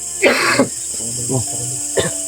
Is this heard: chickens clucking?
no